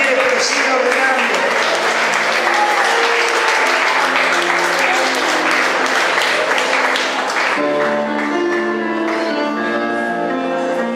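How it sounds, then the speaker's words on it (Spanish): Church congregation clapping steadily through a worship service, dense sustained applause mixed with music and voices, fading as sustained musical tones take over near the end. "Aplauda al Rey si quiere, pero siga ordenando"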